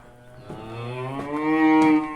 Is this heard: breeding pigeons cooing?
no